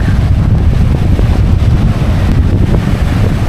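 Strong wind from Typhoon Uwan roars across a beach, a loud, unbroken buffeting rumble that batters the microphone for the whole stretch, with no voices.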